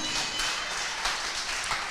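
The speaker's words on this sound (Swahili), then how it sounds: "Pigieni Yesu makofi." A church congregation at a Friday evening revival claps together for Jesus, a steady, dense wash of applause filling the space at moderate volume with no pauses.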